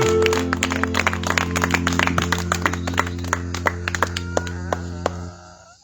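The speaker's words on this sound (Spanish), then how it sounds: "Cuando le dan ofrendas de palmas a Dios." A church congregation claps together as an offering of praise to God, a steady run of sharp claps over a sustained, droning instrumental tone, fading out at the end.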